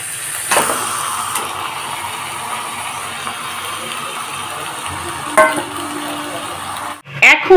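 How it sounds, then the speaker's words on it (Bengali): Masala for chicken kosha with potatoes being stirred and fried in a pan over a low gas flame, giving a steady soft sizzle with a few spatula scrapes and clatters, close and continuous with no talking. "এখন মিনিট 5 কষে নেব। আর গ্যাসটাকে এখন লো ফ্লেমেই করে রেখেছি।"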